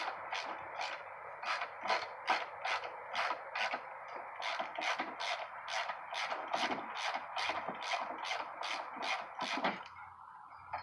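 A ratchet works a long bolt out of a 1993 Honda Prelude steering rack, a fairly quiet run of quick, evenly spaced clicks repeated over about ten seconds, with no talking.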